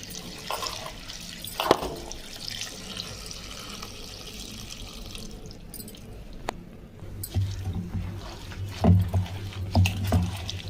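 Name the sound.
washing spinach leaves in water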